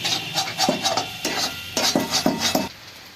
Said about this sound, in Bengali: বেশ ভালো করে করে এটাকে নেড়ে চেড়ে নামিয়ে দিতে হবে